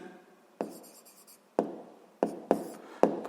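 Formulas being written by hand on a surface, heard as a series of close, sharp taps and short scratchy strokes spaced irregularly, with quiet gaps between them.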